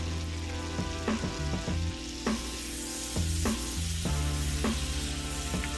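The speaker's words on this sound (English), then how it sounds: "we're gonna start out with 4 ounces of butter, all right? 4 ounces. Let that go ahead and melt down some." Four ounces of butter melt in a pan on the stove, a steady close sizzle broken by repeated light scrapes and taps of a utensil stirring.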